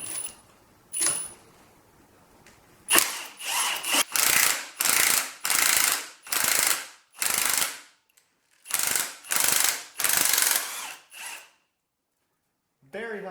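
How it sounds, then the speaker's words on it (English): A hand ratchet removing alternator bolts on a Ford 300 engine: bursts of rapid clicking, each a second or so long, separated by short pauses, close and fairly loud with no talk. "First you got to take out the alternator."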